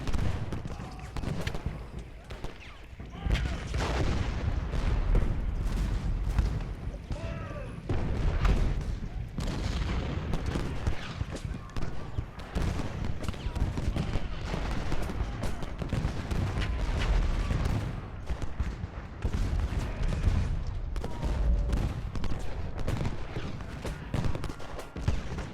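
Artillery booms and scattered gunfire roll on continuously throughout a video game battle, a dense, distant-to-mid-range din of shots and blasts with no clear pauses.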